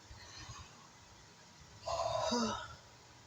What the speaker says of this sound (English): I want you to yawn like this.